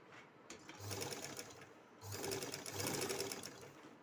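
A sewing machine stitches a panel of a flared princess-cut kurti in two short runs of rapid, rhythmic needle whirring, fairly quiet and close, with a brief pause between them.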